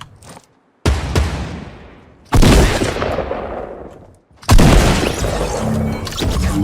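Fortnite gunfire rings out as three loud, booming shots, each one followed by a long, fading echo, with brief quiet before each blast.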